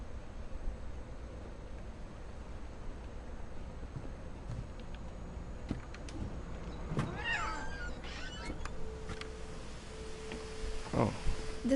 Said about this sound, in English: I heard a cat. Where's the cat?